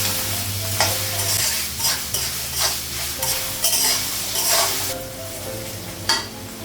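Carrots and potatoes frying in a pan while being stirred, with a loud steady sizzle broken by repeated scraping strokes of the spatula, close up and without speech.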